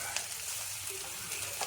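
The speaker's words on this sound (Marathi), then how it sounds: "हे बघा पकोडे आता परतून घेतो." Pakodas being refried in a spicy masala in a pan, a brief steady sizzle with a few light scraping stirs, close and unaccompanied by speech.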